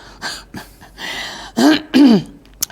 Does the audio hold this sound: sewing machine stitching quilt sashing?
no